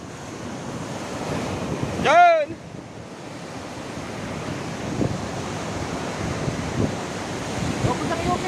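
Surf washes steadily onto the beach at Patar, Bolinao, during shore casting for trevally. Wind buffets the microphone, a brief whistling chirp cuts through, and a voice speaks a single short word.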